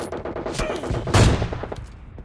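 PUBG Mobile Lite gunfire: a couple of sharp shots followed by a louder burst and rattling echo, close and brief, without talk.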